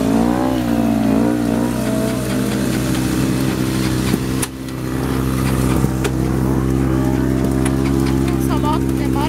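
A motorcycle engine idles loudly nearby and revs up in rising bursts, its steady rumble broken by a brief dip before climbing again.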